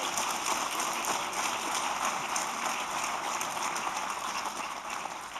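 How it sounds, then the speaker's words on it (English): An audience at a launch event applauds continuously, a dense, even patter of clapping heard at moderate level throughout with no talk. "How about a round of applause for them?"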